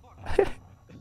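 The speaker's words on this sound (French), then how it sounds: "ah bah y'a le chien" A dog whimpers and yips briefly in a video game, one short whiny cry near the middle, heard over a streamer's gaming session with a voice close by.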